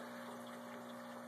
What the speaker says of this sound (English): the water is pumped out of the sump and back into the fish tank